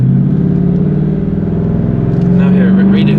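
A pickup truck picks up speed from a slow 14 mph cruise as the gas pedal goes down, a steady low engine drone rising in pitch, loud and close throughout.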